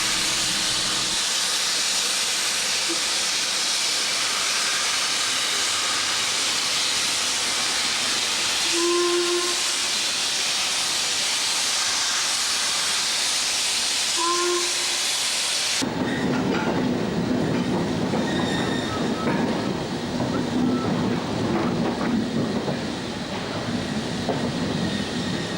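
Steam locomotives, an LMS Black 5 and a 4F, on a heritage railway at Bury, hiss and roar steadily with short whistle blasts, then the sound shifts to a rougher, rumbling passage of the train up close.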